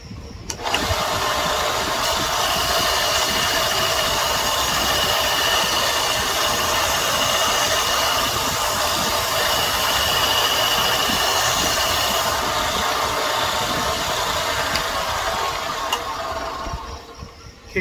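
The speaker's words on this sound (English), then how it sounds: "we're going to sand these down to the line just on this front" A belt sander sands a knife handle steadily for the whole stretch with a continuous whirring hiss of abrasive on material, close and loud, then stops.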